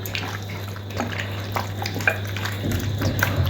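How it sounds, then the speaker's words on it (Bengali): Chicken pieces squelch wetly as they are hand-mixed in marinade for homemade kebab, a close, soft, continuous stirring and squishing. "দিয়ে ভালো করে চিকেনটাকে মাখিয়ে নিতে হবে।"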